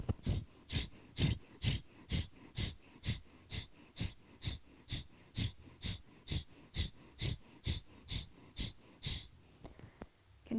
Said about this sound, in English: So continuing your Kapalabhati breathing, my navel is hugging in.